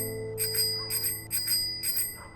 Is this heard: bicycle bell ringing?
yes